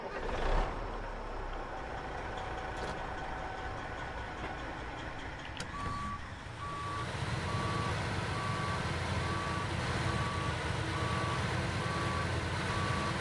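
A heavy truck reverses up a slope in the SnowRunner video game on PS4, its engine droning steadily while a regular series of evenly spaced backup beeps starts partway through and continues to the end, with no talk.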